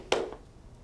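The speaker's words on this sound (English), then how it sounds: "Another 2-sounded tap is a ball change." A tap dance ball change rocks between two steps, giving a sharp tap followed by a fainter second tap a fraction of a second later, close and isolated.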